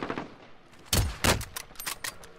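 Several sharp gunshots ring out in a battle royale video game, a few strong bursts spaced irregularly with smaller cracks between, fairly close and loud, with no talking.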